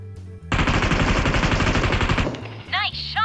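Rapid automatic gunfire in PUBG Mobile, a loud dense burst lasting nearly two seconds, followed by a brief quieter pause and short distorted electronic game sounds.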